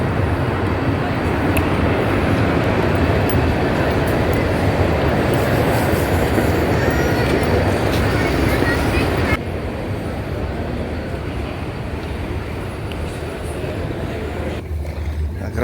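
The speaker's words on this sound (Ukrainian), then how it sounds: "Заходимо во Франкфурт на вокзал." Dense, loud rumbling hubbub inside Frankfurt's main railway station, with trains and station bustle filling the space steadily throughout, dropping slightly in level partway through.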